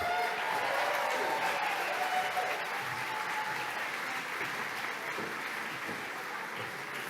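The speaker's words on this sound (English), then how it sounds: "Give them one big round of applause." Audience applause at a Victorian Pride awards ceremony fills the room with dense, sustained clapping that stays steady for several seconds before easing slightly toward the end.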